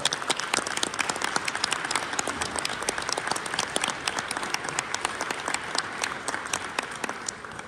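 A seminar audience gives a sustained round of applause, dense clapping from many hands that stays steady and fairly loud throughout with no talk over it.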